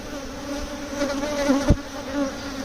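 Honey bee swarm buzzing loudly and close during transfer into a Layens hive, a dense continuous drone with shifting pitch as individual bees pass near, plus a brief low thump.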